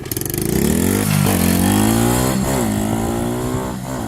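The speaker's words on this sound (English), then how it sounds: "We're gonna ride this dirt bike. My little mini dirt bike." A small mini dirt bike engine revs up hard, its pitch climbing and shifting as it rides off, loud and close with no talking.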